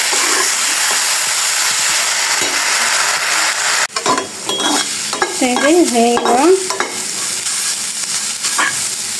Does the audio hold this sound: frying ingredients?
yes